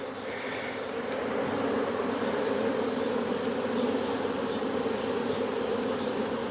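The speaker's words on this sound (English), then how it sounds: "Bees getting pretty agitated now." A dense, steady buzz of many agitated honeybees swarming at an open hive, loud and close, with bees queuing at the entrance and a little smoke in use; the droning hum holds unbroken throughout with no voices.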